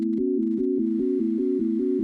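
A synthesized chord from the Desmos graphing calculator sounds alone as a steady sustained tone, pulsing on and off in an even repeating rhythm with short gaps between hits.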